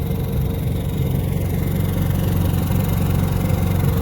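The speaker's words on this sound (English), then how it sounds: "I apologize for the generator noise." A generator mounted underneath a coffee trailer runs steadily with a loud, continuous low engine rumble and hum that holds unchanged throughout, close by and alone.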